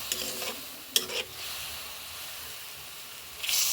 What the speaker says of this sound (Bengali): এবার মাছটা ভালো করে কষিয়ে নেব।